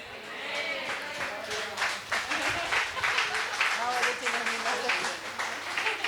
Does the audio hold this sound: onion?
no